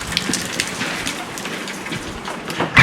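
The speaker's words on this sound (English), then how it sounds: "for it to rain this hard for this long" Heavy, sustained rain pours down hard, a dense steady hiss of drops drumming on surfaces close by, with a few louder splashes and a brief burst near the end.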